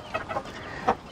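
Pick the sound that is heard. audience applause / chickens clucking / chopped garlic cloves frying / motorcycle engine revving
chickens clucking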